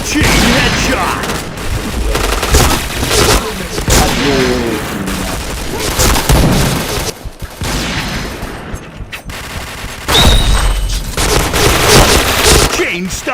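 Rapid bursts of gunfire from a video game shooter crackle loudly and close, with repeated volleys broken by brief pauses, alongside game voice lines.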